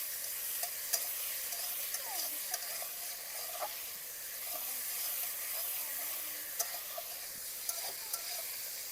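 Salted tomatoes soften and cook down in a pan with a quiet, low simmering sizzle, broken by occasional soft clicks and stirring taps.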